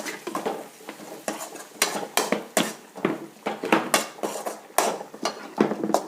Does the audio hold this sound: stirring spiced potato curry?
yes